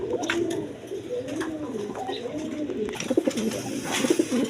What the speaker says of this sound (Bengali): এই দোনোটা মাদি কবুতর দেখেন